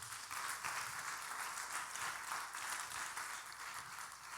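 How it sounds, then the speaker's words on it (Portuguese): A church congregation applauds during a sermon, a soft, distant wash of steady clapping that holds evenly throughout. "Dê um aplauso a Ele bem forte."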